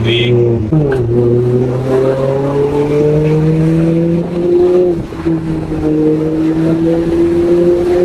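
A turbocharged automatic car revs hard, its engine note rising and falling over several seconds, with a brief hissing burst at the start that fits a turbo blow-off valve; loud and close, with no talk.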